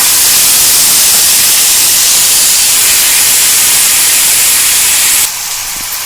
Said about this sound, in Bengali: তেলটা গরম হয়ে গেছে, আমি এই আলুগুলো কিন্তু তেলের মধ্যে দিয়ে দিচ্ছি